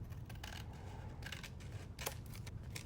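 Crisp scissor snips cutting through paper, a few short bursts scattered over a steady low background hum, close by.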